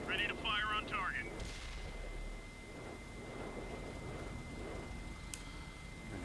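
An IS heavy tank's cannon fires in World of Tanks, a single heavy boom followed by a long fading rumble, after a short burst of chirpy radio-like sound at the start.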